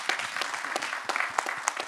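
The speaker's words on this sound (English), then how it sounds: "So I think we should give UID a big round of applause." Audience applause at a fintech conference, recognising UIDAI for enabling digital banking in India: a short, moderately faint burst of scattered clapping with a few sharper individual claps.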